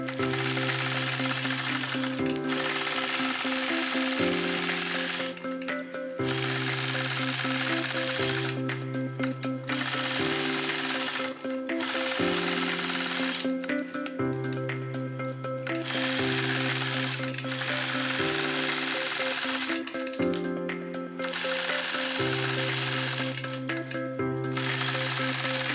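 A sewing machine quilts a modern improv flying geese border across the top of a quilt, running in loud repeated bursts of rapid mechanical stitching with a steady motor whine that stops and restarts every couple of seconds, with no talking.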